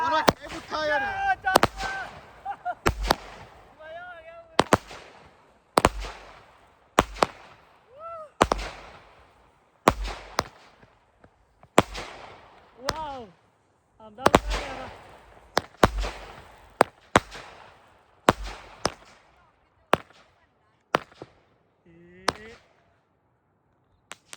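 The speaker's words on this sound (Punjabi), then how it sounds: "ਲੈ ਵੀ ਦੂਜਾ ਪਟਾਕਾ ਚੱਲਣ ਲੱਗਾ ਆਪਣਾ" A string of sharp, loud firecracker bangs goes off one after another at uneven intervals during Diwali in England, with excited voices and chatter between the blasts.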